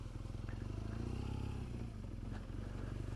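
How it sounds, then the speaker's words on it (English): A BMW GS 1200 motorcycle ridden off-road on slippery ground, its engine throbbing steadily and loud up close under rushing wind, with brief clatters of the bike bouncing over terrain. "This, our bike's going all over the shop."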